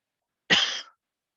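A single short, harsh cough, close and clear, in otherwise silent surroundings.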